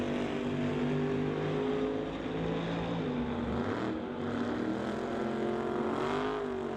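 Drag race cars, among them a 1967 Camaro, roar on the strip at a drag racing event, a sustained engine drone with pitch sweeps as they accelerate, heard from a distance.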